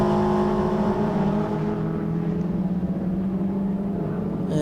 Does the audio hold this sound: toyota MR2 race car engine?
yes